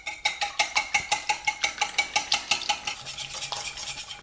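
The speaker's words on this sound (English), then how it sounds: "We're gonna beat that together until it's combined." Wet ingredients for zucchini bread batter whisked by hand in a bowl, a steady rhythmic run of quick metallic strokes against the sides, close and clear, slowing slightly near the end.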